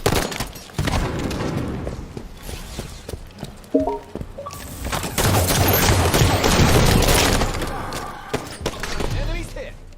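Dense gunfire from a ranked Halo 5 multiplayer match: rapid overlapping bursts and single shots fill the whole stretch, loud and busy, with voices mixed in underneath.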